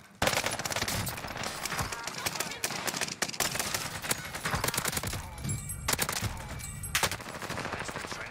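Dense automatic gunfire in Call of Duty Warzone with the Armaguerra 43, rapid bursts and scattered single shots cracking nonstop, with players talking under the firing.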